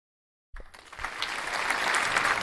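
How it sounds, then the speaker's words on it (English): After a moment of silence, an applause sound effect in a Second Life virtual wrestling show breaks out and swells into steady, sustained clapping from a sizeable crowd. "Added some applause."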